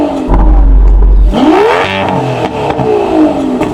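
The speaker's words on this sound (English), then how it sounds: "Can you rev up your car, Sam?" A powerful twin-turbo V12 car engine revs hard, its pitch sweeping up and falling back in loud, close bursts.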